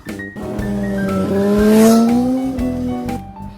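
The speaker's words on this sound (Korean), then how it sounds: "저 오토바이 드리프트 연습하나봐" A close motorbike engine whines and rises in pitch with a squealing, skidding edge, loud and sustained, as it practises drifting through a turn on a road in South Korea.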